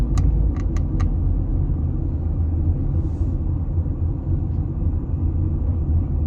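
Continuous low road rumble from cars crawling in slow, heavily congested traffic at about 20 km/h, heard from inside a vehicle, steady and close, with a few brief high clicks near the start.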